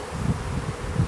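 Honey bees buzzing around an open hive during an inspection, brace comb built on top of the frames, a close, steady low hum with small swells, no voices.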